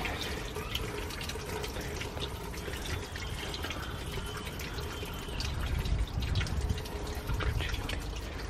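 Water pours steadily from a dragon-shaped spout into a shrine purification basin, a continuous close splashing and trickling with no breaks.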